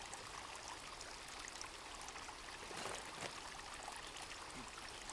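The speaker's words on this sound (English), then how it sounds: "it's the entrance behind the waterfall" A waterfall pours in a steady broadband rush in the survival game Sons of the Forest, constant and fairly close, with a slightly louder surge partway through and no voices.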